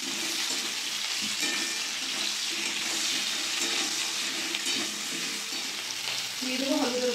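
Potatoes, eggplant and slit green chilies sizzling in hot oil with black cumin seeds in a pan, a steady hiss of frying with occasional scraping stirs, no talking.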